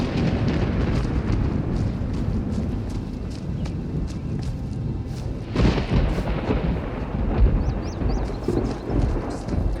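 Thunder in the video game Skyrim: deep rolling rumbles over a dense bed of rain and low noise, with a stronger boom about midway and scattered sharp crackles throughout.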